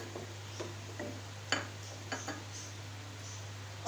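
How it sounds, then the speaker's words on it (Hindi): A spoon stirs bottle gourd and mutton curry with green chillies and coriander in a pot, making scattered light metallic clinks and scrapes over a constant low hum. "अच्छे से एक बार मिक्स कर लेंगे"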